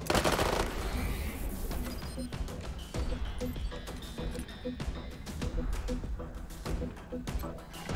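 Regular rifle shots fired in the video game Wasteland 3 crack out in a rapid irregular volley, loud and near, with a voice talking over the gunfire.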